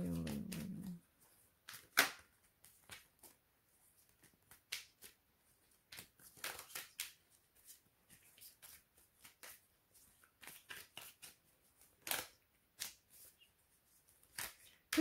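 Toolback Tarot cards being shuffled by hand: soft, close riffles and flicks of card stock in scattered bursts over a quiet room, with a faint voice at the very start.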